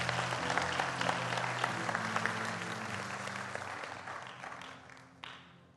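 Church congregation applauding during a Spanish-language service on holiness, a steady wash of many hands clapping over sustained low music, tapering off near the end.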